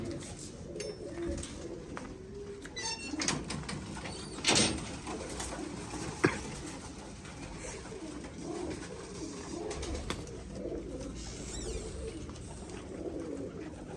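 Pigeons kept by a breeder coo softly in a loft, with low repeated calls under a steady background of ambient noise and a few brief knocks.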